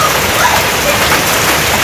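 Steady, dense rain pours down continuously, a close hissing wash with no pauses or voices.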